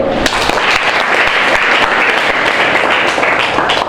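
Schoolchildren clap together in a classroom, a loud, dense burst of applause lasting several seconds without pause.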